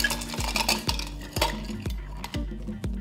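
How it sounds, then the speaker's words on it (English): Ice cubes tumble into a metal cocktail shaker tin as it is filled for an Aviation cocktail, giving a series of close, sharp clattering impacts roughly every half second, with rattling settling between them and no talk. "Now I'm gonna fill my shaker tin full with ice."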